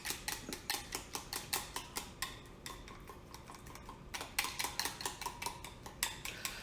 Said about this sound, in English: I'll take a whisk and I'll just make sure it gets nice and mixed up good.